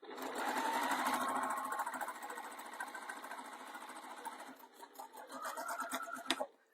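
A sewing machine stitches a faux leather bag pocket with a fast, steady mechanical whir and chatter that runs continuously for several seconds, then slows and stutters near the end.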